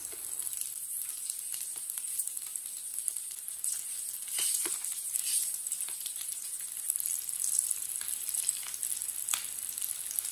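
Leftover rice patties fry in a pan over medium heat, a steady close sizzle with soft crackling pops running throughout, no talking.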